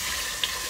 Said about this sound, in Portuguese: Eu vou selar a carne.